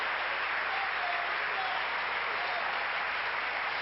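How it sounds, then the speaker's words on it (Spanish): Congregation applauds during a Sunday church service, a continuous, muffled and fairly distant roar of clapping heard alone at moderate volume. "Denle ese aplauso fuerte al Señor"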